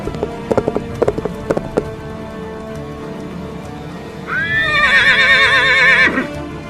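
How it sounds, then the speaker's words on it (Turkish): Horse from an animated historical series neighs loudly in a long wavering whinny, preceded by a few sharp hoof clip-clops on hard ground, with a faint rain-like hiss underneath. "Beyimizin atı değil mi bu gelen?"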